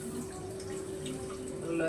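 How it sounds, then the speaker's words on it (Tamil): Tamarind water poured into a simmering dried-fish curry (karuvadu kuzhambu), a steady close trickle of liquid over a low constant hum, swelling slightly near the end. "இப்போ நான் வந்து புளி தண்ணி கரைச்சி வச்சுருக்கேன். ஸோ அதை நல்லா ஊற்றிக்கலாம்."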